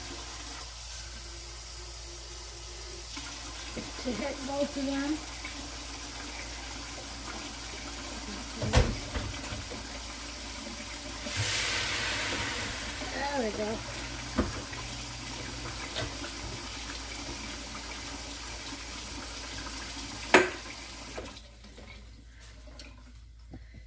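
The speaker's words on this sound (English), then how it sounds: "I'm gonna throw some more water, let some of that steam rise" Water is thrown into a hot oven to raise steam while baking mini Mediterranean artisan bread, giving a steady hiss and splash with a stronger rushing burst midway and a few sharp knocks, while a voice speaks briefly.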